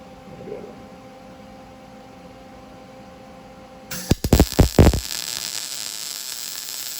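A Lincoln Electric Pro Mig 135 MIG welder lays a short spot weld through a punched hole, a sudden loud crackling burst with several sharp pops lasting about a second, after a quiet stretch of low hum, then fading to a steady hiss.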